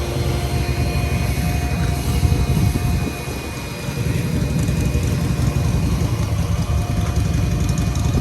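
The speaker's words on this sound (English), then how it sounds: "A little trusty shop vac." A shop vac runs while vacuuming a car, giving a steady, loud motor drone with a constant whine that dips briefly partway through before resuming.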